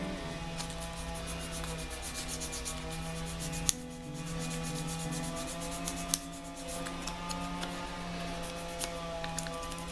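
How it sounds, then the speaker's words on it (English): A photo-etched metal cockpit part for a scale model is sanded with quiet, continuous rubbing strokes, heard faintly against a steady hum of background noise. "a little bit of sanding here."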